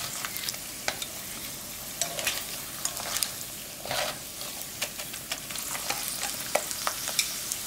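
Coated chili peppers deep-frying in oil over low heat, a steady dense sizzle with scattered crackles and pops, close and continuous with no talk.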